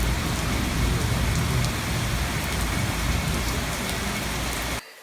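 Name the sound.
heavy pouring rain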